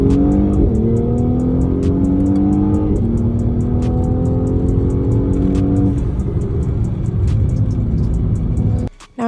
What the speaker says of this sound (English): Then let the engine warm up and go out and drive it pretty hard.